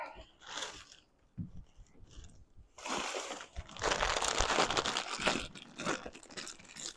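Plastic bag of homemade cookie mix being handled and crinkled, starting with a few soft rustles, then a louder, sustained stretch of close crinkling and crunching.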